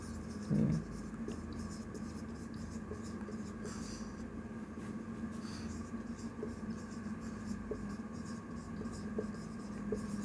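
A pen writes out a medical abbreviation during a lesson on blood tests: faint, soft scratching strokes run steadily and close by, with a brief louder tap near the start and low room hum underneath.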